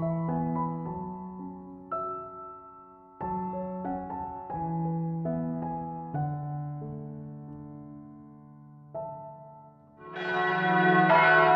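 Church bells ring from the spire of Frankfurt cathedral in a slow, clear sequence of struck tones, each note decaying into the next, with a fuller, brighter clang building near the end.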